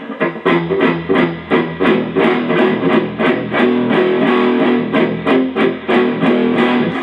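Chugging, palm-muted electric guitar chords in a steady rhythmic pattern, tight and percussive with a slightly distorted edge, played alone and fairly loud.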